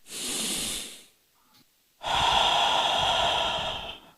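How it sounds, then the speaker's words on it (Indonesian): A patient breathes deeply during a counseling session, with a long, loud, close inhale, a brief pause, then a longer breathy exhale that sounds like a rushing hiss. "Sampai tarik napas lagi."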